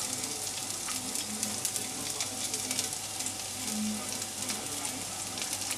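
Shallots and chilli sizzling in a hot pan, a dense steady crackle with faint stirring scrapes and no talk.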